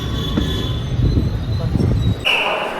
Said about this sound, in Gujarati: ગાંધીગ્રામથી ટ્રેન નીકળી ગઈ છે અને જઈ રહી છે અમારા ધંધુકા થઈ